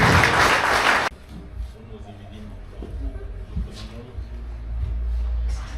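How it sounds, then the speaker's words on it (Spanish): A burst of loud applause from an audience at a book presentation, lasting about a second before cutting off abruptly into quiet room tone with faint talk and murmurs. "el aplauso fuerte"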